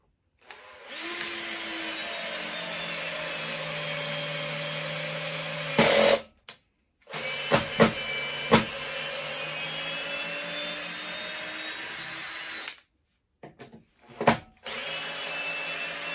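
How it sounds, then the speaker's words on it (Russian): Makita DTD153 cordless impact driver running at slow speed as it drives a screw, a steady close motor whine with a short pause and a few sharp bursts before it resumes alone. "А вот на медленной скорости нормально"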